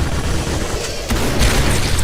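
A heavy, booming grenade explosion in a video game bursts over continuous rumbling, with a second sharp blast about halfway through.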